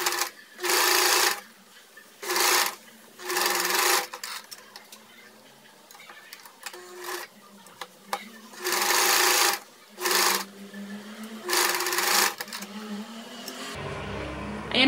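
A sewing machine stitches the facing to a blouse neckline, running in five or six loud, close bursts of a second or so each, separated by short pauses and quiet handling of the fabric.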